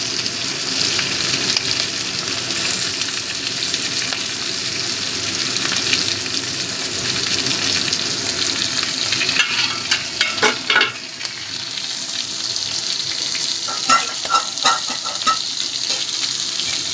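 Crabs deep-frying in oil hiss and sizzle steadily and close, with scraping stirring and clinks of a utensil as the pieces are lifted out of the pan.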